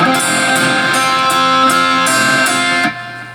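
A guitar chord picked one note at a time in a steady arpeggio, ringing clearly before the notes are damped near the end.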